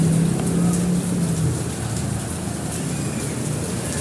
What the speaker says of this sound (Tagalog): malakas pang ulan